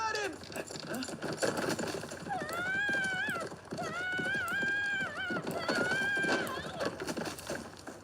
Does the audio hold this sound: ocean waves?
no